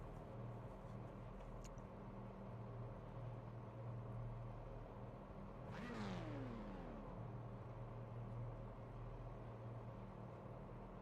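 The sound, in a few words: engine revving of racing cars in a video game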